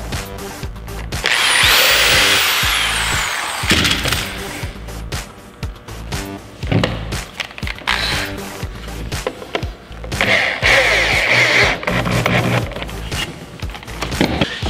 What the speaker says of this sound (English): Drill and drive this piece as well.